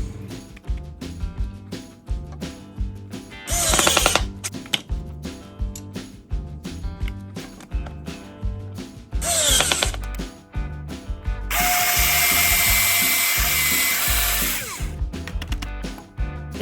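A power drill whirs in short repeated bursts with ratcheting, clicking mechanical noise while making holes in a wooden table for hairpin legs, then one longer sustained high-pitched grinding run.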